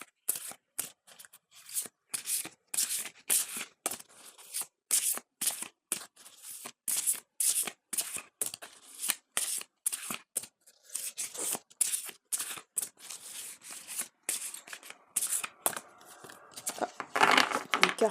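Oracle cards being shuffled by hand in a tarot-style reading, a long run of quick crisp snapping riffles and slides close up, steady rhythmic bursts with brief pauses, building denser near the end.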